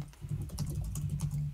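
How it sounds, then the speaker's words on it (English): Someone types on a computer keyboard during a Roblox volleyball game session, a quick, steady run of close, heavy key clacks that continues throughout. "Who is typing like with a whole brick?"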